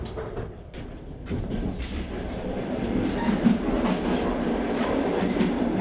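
A passenger train on the Truskavets-Kyiv route rolls along, heard from inside a carriage as a steady loud rumble with rhythmic clickety-clack of wheels over rail joints and no speech.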